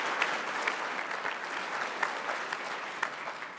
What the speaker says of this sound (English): just a quick clap for Cannon.